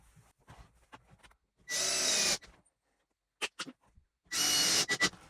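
A power drill drives screws into drywall in two loud, close bursts of high whirring, separated by quieter handling clicks and scrapes.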